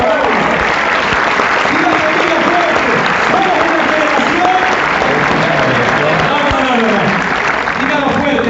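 A church congregation claps and cheers continuously in worship, loud and sustained with voices singing or shouting through the applause.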